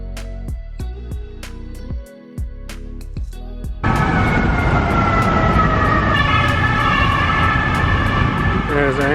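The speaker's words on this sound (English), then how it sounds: "There's our ambulance." Sharp repeated clicks give way to a loud, close ambulance siren wailing continuously over engine and traffic noise on a Bangkok street in front of a mall.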